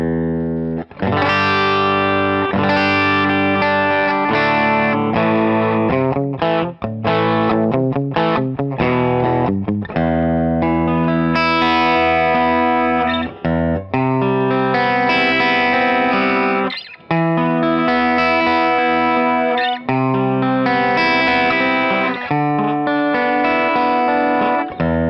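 A Firefly offset electric guitar played loud through heavy distortion and chorus-style effects, sustained ringing chords and fast note runs filling the whole stretch with no pauses, no voices.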